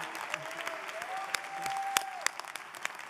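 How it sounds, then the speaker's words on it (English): Warm applause for a dean at a law school convocation, steady crowd clapping with scattered sharp nearby claps and a high whistle-like tone gliding through the middle, loud and continuous. "join me in giving her a special round of applause"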